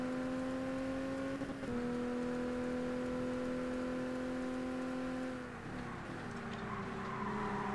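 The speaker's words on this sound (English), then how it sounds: "Probably the Cobra's changing gear" A Shelby Cobra engine in the ToCA Race Driver 2 racing game holds a steady high drone, then drops pitch through a gear change partway through and settles into a new sustained tone, continuous and fairly loud.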